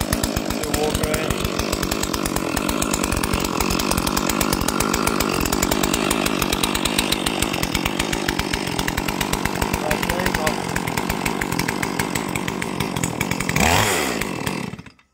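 Holzfforma G466 chainsaw running steadily at high revs for about thirteen seconds, loud and close, then shutting down near the end; no talk over it.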